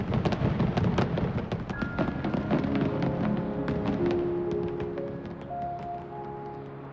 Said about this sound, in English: Seeing your fireworks in the sky, how does that make you feel?